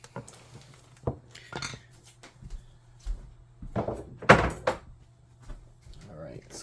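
Cutting board and assorted kitchen items shoved aside on a counter, giving scattered knocks, clinks and thuds of dishes and utensils at close range, one sharp clatter standing out, with a steady low hum underneath.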